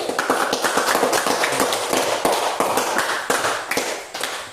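Audience in a classroom tutoring session claps in a dense burst of sharp hand claps that continues for several seconds and thins out toward the end.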